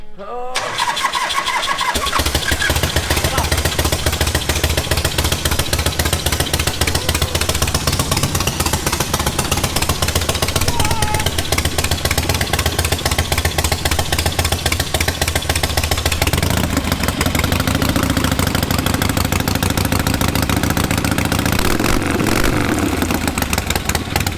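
A motor engine rumbles loudly and steadily at idle, a continuous throbbing close by, with a slight change in tone toward the end.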